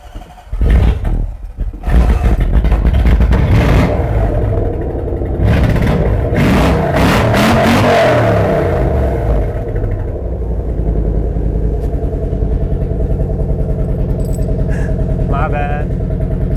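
Lexus LS400 sedan engine cranking and catching, then revving up and settling to a steady idle, loud and close, with people talking nearby.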